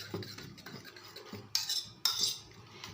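Fork or whisk clattering rapidly against a bowl while beating an egg mixture seasoned with pepper powder and chopped coriander, a quick irregular run of close metallic taps with two sharper bursts near the end.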